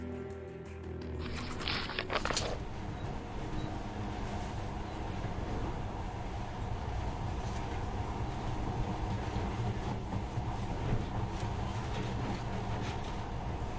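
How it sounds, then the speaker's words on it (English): A monorail train runs in Metro Last Light Redux, giving a dense, steady rumble and rattle that carries on for the whole stretch, with a brief louder clatter near the start. "But now, this monorail seems magic, doesn't it?"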